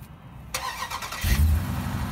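A 2022 Dodge Durango SRT 392 with a 6.4-litre HEMI V8 cranks briefly, then fires into a deep, loud rumble that settles toward idle, heard close up.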